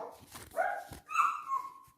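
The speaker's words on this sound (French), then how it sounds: "y a mon chien qui gueule" A dog barks and yelps indoors, several short, sharp, whiny barks in an uneven rhythm, fairly close and alone without talk.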